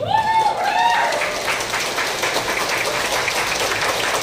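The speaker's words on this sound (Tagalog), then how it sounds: "Bigyan natin siya ng maraming palakpak." Dense, sustained applause from a large audience at a DXN Create Greater Philippines event, close and loud throughout, with a voice briefly calling out over the clapping at the start.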